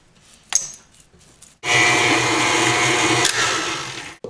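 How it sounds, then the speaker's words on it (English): A stand mixer's paddle beats cream cheese and butter, a loud steady motor whir starting abruptly after a few light clicks and running to the end. "I'm going to beat these with the paddle attachment until it's all nice and fluffy"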